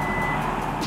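The parking sensor of a 2023 Isuzu MU-X gives a quick series of short, evenly spaced electronic beeps, loud and close, lasting under a second.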